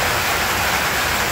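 Heavy rain pours down steadily on a campsite on a Saturday night, a dense, even hiss with no break and no voices.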